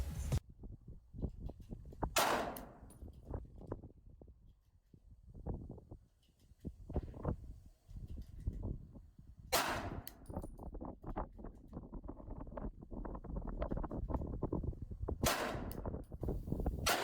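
Compensated Sig P365 pistols fire from a bench at an outdoor range, sending sharp single reports spaced several seconds apart, each with a bright crack and a short tail, amid quieter rustling and handling noise.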